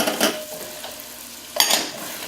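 Chopped celery stirred into a pot of gumbo, a soft sizzle with scraping stir sounds, then a louder burst of frying as more goes in, close and alone.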